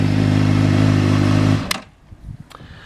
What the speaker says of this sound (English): Lovely sounding exhaust, and as I say, that's with the baffle in